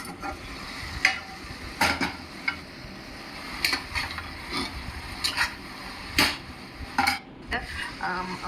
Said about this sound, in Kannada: ಸೊ ಈಗ ಮಸಾಲೆನ ಮಿಕ್ಸ್ ಮಾಡ್ತಾ ಇದ್ದೀನಿ